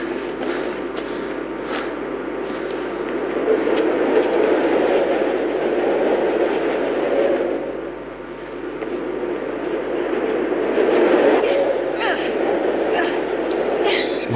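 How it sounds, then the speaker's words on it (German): Subway trains rush past in the video game Mirror's Edge, with a steady rumbling roar that swells and fades twice as trains go by, while a voice talks over it. "das Level finde ich ein bisschen nervig mit diesen ganzen U-Bahnen, wo hier aufeinander düsen"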